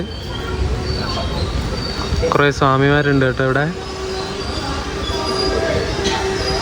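A train rolls into Chengannur railway station with a squealing wheel screech over the station hum. Someone speaks nearby over the rail noise.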